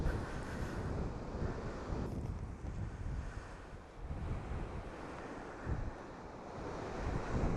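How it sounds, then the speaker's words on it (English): Steady wind roars and buffets the microphone over a beach, blending with surf washing in the background, continuous with no voices. "It's a bit windy today,"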